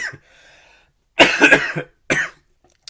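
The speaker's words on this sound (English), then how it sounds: "I knew I had a cough." A single harsh, close cough bursts out, followed by a shorter second cough after a quiet pause.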